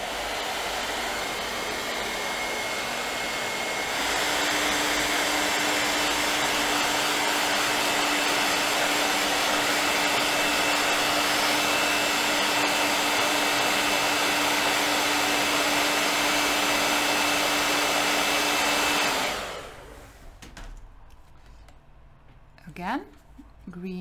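A heat gun blows steadily for about twenty seconds, drying layers of green ochre watercolor on paper, a constant loud whooshing hiss that cuts off abruptly, leaving quiet room noise and a few faint handling sounds.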